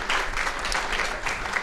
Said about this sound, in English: can we get a round of applause for all the students who did this